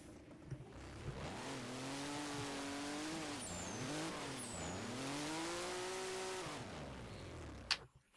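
An rFactor racing game car drifts with far too much throttle, its engine whining and wavering in pitch under steady high revs, with faint tire squeals overhead and a sharp click near the end.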